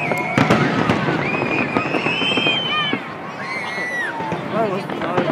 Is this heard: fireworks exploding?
yes